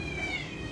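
A cat's drawn-out meow in a school classroom during a legal talk, a single short plaintive cry heard clearly against faint room noise.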